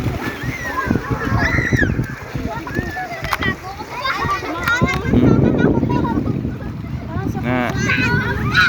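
Children shout and chatter excitedly as water splashes and sloshes around them, a busy, close-up scene of kids playing in a river.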